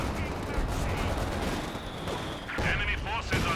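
Company of Heroes 2 battle with rocket artillery fire: a dense, continuous barrage of blasts and rumbling fire, loud throughout, with a few sharper bursts near the end and faint speech mixed in.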